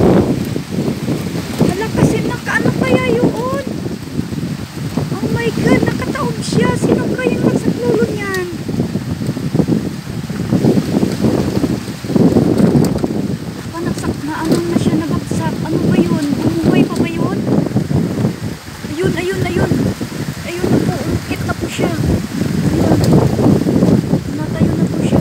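Strong, gusting wind buffets the microphone during a heavy rainstorm in Dubai, a loud continuous roar with people talking excitedly over it.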